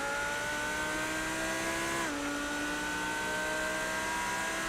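Race car engine in a GTD-class sim racing game, loud and steady throughout, its pitch dropping sharply at a gear change midway before holding a strong drone again.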